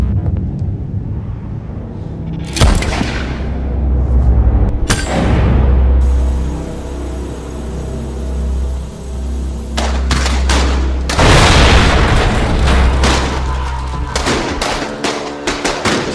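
Gunfire in a movie: heavy bursts of rapid automatic fire and single loud shots crack out repeatedly over a deep rumbling score, dense and close with brief lulls between volleys.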